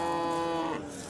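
A cow at the Yozyovon livestock bazaar in Fergana gives a single drawn-out moo, fairly close and clear, with a tonal, nasal quality that fades off after about a second, heard without talk.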